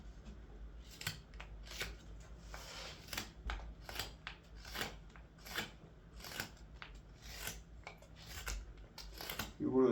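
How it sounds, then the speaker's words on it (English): Hand carving of a wooden coffee scoop with a knife, cutting into the cork from one side: repeated short scraping and slicing strokes in a steady irregular rhythm, close and moderately loud, with brief low room noise between cuts. "So I'll take this cork now and start to cut like this from one side."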